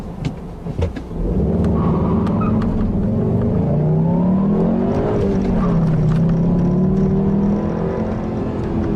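A 2014 Volkswagen GLI turbo engine drones steadily while driving, a low rumble with rising and falling whine from inside the cabin, a few faint clicks at the start and no speech.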